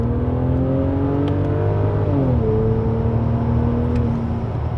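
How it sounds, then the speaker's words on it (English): A BMW 7 Series with a V12 engine accelerates at full throttle, its engine note droning steadily upward, dipping briefly at a gear change and then climbing again, loud and heard from inside the car. "Clear behind me now, and I'm just gonna floor it and see what happens."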